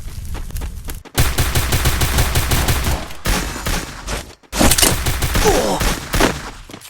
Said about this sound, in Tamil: பிரதீப் போட்டான் பாரு, குண்டு போறானுங்க அடி